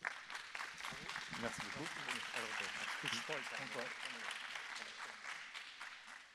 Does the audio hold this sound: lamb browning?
no